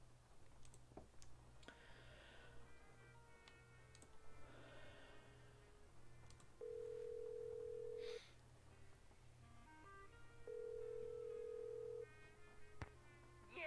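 Telephone dialing in the Nancy Drew: Legend of the Crystal Skull video game: two sustained steady tones, each about a second and a half, with short beeps between them, over soft background game music.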